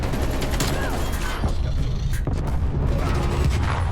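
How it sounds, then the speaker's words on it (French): An enemy artillery strike in Call of Duty Black Ops Cold War brings dense, continuous rumbling blasts and crackling gunfire in a chaotic multiplayer battle, loud and layered with no clear pauses. "Artillerie ennemie en approche."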